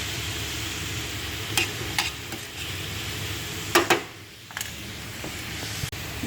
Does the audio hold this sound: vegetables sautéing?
yes